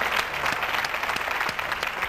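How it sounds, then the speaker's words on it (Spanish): Audience applause for a man who attached 130 clothespins to his face, a dense, steady crowd clapping throughout at moderate loudness with no talk. "Yo quiero pedir un aplauso fuerte para él."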